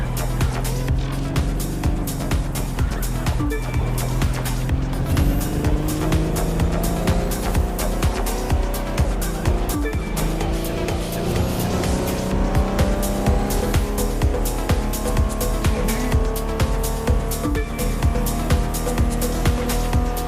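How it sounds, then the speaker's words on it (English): A hypercar races through a storm in The Crew 2, its engine roaring with gear changes and screeching tires, heavy rain and wind noise behind it, loud and continuous. "imagine taking a blind turn and seeing a hypercar speeding"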